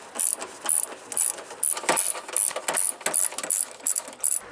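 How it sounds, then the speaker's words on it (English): A ratchet works 10mm radiator bolts loose with a steady train of sharp, close clicks, pulsing in quick repeated strokes with no one talking. "Now we can remove the top two 10mm bolts to get the radiator out."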